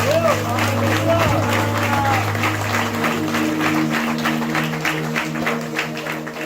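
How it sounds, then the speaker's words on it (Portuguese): Applause from a congregation at a church healing seminar in Amazonas, Brazil, sustained and fairly loud throughout, with a voice and background music continuing underneath. "Dê uma salva de palmas para Jesus."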